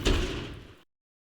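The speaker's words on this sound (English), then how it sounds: "Come on, we need to shut the doors." A door slams shut during an emergency-response training scenario, a single loud thud near the mic that fades out within a second, with no talking.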